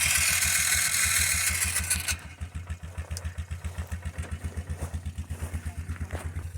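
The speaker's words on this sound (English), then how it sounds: "we've got an ATV with us, haul all our gear, and we'll hike in" ATV engine: a loud steady roar at first, then it settles into a close, rhythmic chugging idle with regular pulses.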